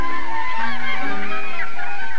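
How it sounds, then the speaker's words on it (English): Herring gulls on the Newfoundland coast calling overhead, a loud, continuous overlapping chorus of harsh wailing cries with no talk. "The largest of them are called herring gulls."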